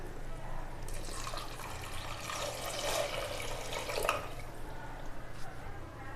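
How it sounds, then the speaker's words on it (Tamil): Water being poured into spiced masala in a pressure cooker while making kuska biryani, giving a continuous trickling, splashing pour for several seconds at close range. "இப்போ தண்ணி சேர்த்துக்கலாங்க."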